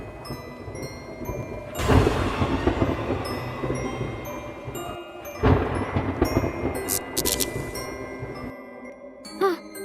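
Rain pours through a night horror scene in the Sakura School Simulator video game, with heavy bursts of downpour and rumbling surges, some faint tinkling and brief chimes, and no speech over it.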